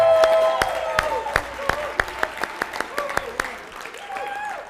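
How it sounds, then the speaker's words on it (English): A group at a fitness bootcamp session claps in scattered, sharp beats that thin out into individual claps, with voices and shouting mixed in between them. "everybody give yourself a big round of applause"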